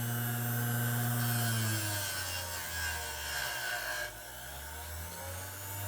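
A grinder strips paint and primer from an aluminum saber hilt in a workshop, making a continuous close abrasive whir with a low motor hum that dips and shifts in pitch as the tool presses on the metal.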